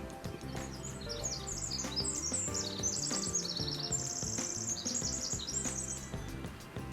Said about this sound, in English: it perched and sang several more choruses of its cheerful, chattering song